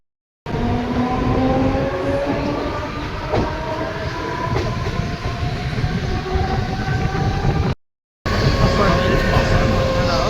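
Rumbling and rattling from inside a moving train near Panvel station, loud and continuous, with a brief dropout near the end before the noise resumes.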